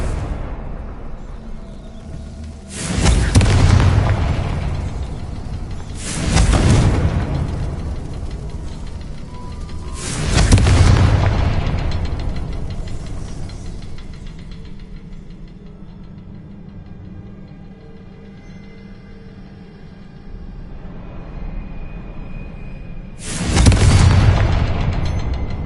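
Confringo fire spell explosions in the video game Hogwarts Legacy: four heavy, booming blasts spaced several seconds apart, each with a deep rumbling tail that fades slowly.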